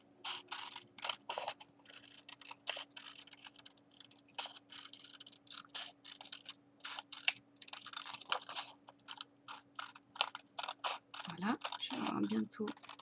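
Scissors cutting a paper circle for a handmade tag card, heard as close, quiet, rapid snipping and crisp crunching blade strokes in irregular bursts, with a faint steady hum behind and a brief soft voice near the end.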